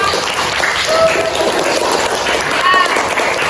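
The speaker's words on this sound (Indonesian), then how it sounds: "Tepuk tangan untuk kita semua." Schoolchildren in a classroom clap together after group presentations, a continuous loud wash of many small hands mixed with scattered voices and a few high shouts.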